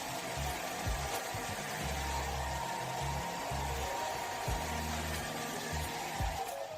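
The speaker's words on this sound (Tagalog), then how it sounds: "Patuyuin ng husto ang buhok gamit ang hair dryer." A hair dryer blows on hair in a steady, loud whooshing drone, with a low motor hum pulsing underneath, continuous throughout.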